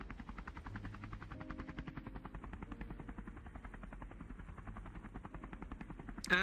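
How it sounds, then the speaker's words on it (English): Helicopter rotor noise heard from inside the cabin in a roleplay game, a steady rapid chopping thrum with a low engine drone, moderately quiet and continuous without speech. "the echoing sound of the helicopter is all that is heard within the helicopter"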